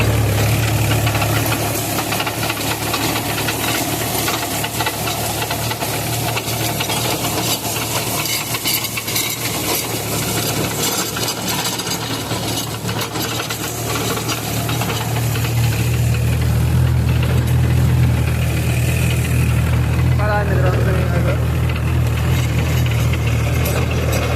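A Mahindra 475 DI tractor's diesel engine chugs continuously while running an unloaded 5-foot rotavator, with a knocking, rattling mechanical churn, its low rumble swelling louder for the last several seconds.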